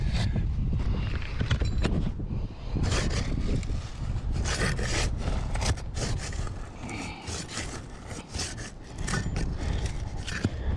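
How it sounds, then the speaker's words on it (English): A trowel scrapes and pries under asphalt roof shingles, making continuous rough, gritty scraping and crunching strokes, loud and close, with no talk. "this trowel is probably the best technique I've developed for popping shingles"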